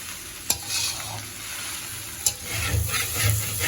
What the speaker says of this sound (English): just keep turning it over and over until all the noodles is well coated with the egg